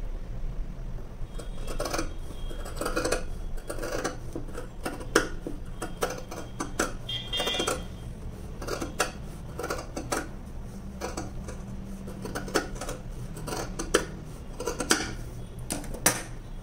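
Scissors cutting fabric along a marked line during tailoring, a series of crisp snips and clicks in an irregular rhythm, close up, with quiet handling noise between cuts.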